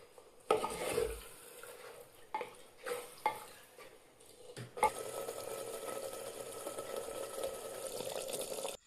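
Chicken stirred and fried in a clay handi pot, with intermittent scraping and clinking of a spoon against the pot, then a steady quiet sizzle of frying that continues to the end, fairly soft and close.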